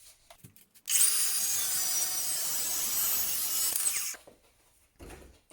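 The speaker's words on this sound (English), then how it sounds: "Just cut it right where the taper starts." A steering column part is cut right at its taper with a power tool, giving a harsh, steady grinding-cutting noise that lasts about three seconds and then stops, with faint handling clicks before and after.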